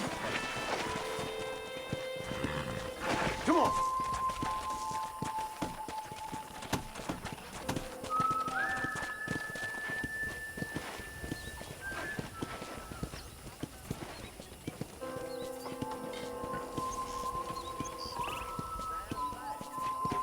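Horse hooves clip-clop steadily at a walk under tonal game music in Red Dead Redemption, with a brief spoken line near the start.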